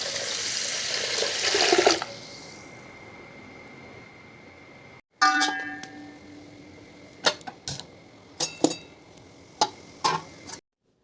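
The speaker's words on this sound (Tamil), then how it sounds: "நல்லா வாஷ் பண்ணி எடுத்ததுக்கப்புறம் தண்ணி ஊற்றி ஒரு 20 மினிட்ஸ் ஊற விடுங்க." Water pours steadily over washed black urad dal for a couple of seconds, then stops; quieter clicks and small knocks of handling follow, with no talk.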